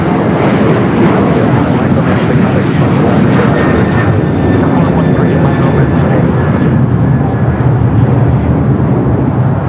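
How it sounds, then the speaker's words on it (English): An Air Canada Boeing 787-8 Dreamliner in older livery, arriving from Toronto, comes in to land on runway 25 Left at LAX, a loud, continuous jet roar filling the whole stretch with no voices heard. "Do have Air Canada flight 785 coming from Toronto with 787-80 Dreamliner."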